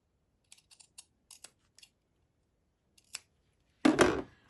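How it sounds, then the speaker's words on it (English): Scissors snip through quilt binding fabric in a run of quick, light close-up cuts, then one longer, louder final cut, with no talking. "I'm going to cut there now."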